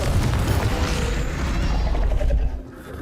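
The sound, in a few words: Confringo explosion spell, from the video game Hogwarts Legacy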